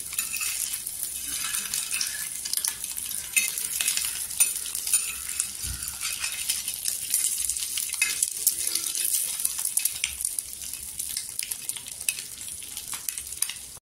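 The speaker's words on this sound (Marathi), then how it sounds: "इथे बघा तेलात आहे ना आपण मसाला टाकून घ्यायचा आणि छान असं फ्राय करून घ्यायचं." Masala spices fry in hot oil with a constant close sizzle, broken by light stirring scrapes and an occasional metallic clink of a utensil against the pan.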